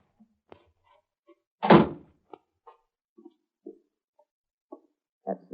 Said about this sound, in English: That's the cellar door.